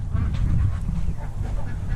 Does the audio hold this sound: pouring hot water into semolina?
no